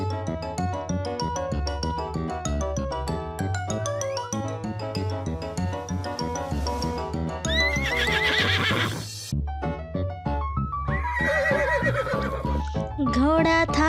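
Horse neighs and whinnies with clip-clop hooves, loud over a busy, bouncy children's song playing throughout.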